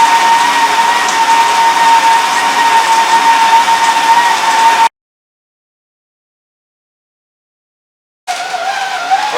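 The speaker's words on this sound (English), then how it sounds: "I know the whirring noise" An electric kitchen mixer blends a beef meatball mixture with a steady, loud, high whine. It cuts out abruptly into silence for a few seconds, then starts whirring again.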